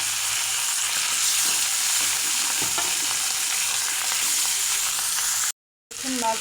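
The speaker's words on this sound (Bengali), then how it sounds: "এখন মাছ ভেজে নেব।" Poa fish coated in turmeric and salt frying in hot mustard oil, a steady loud close sizzle with occasional stirring clinks, cutting out briefly near the end.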